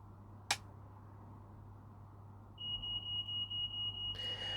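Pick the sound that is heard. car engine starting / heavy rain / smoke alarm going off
smoke alarm going off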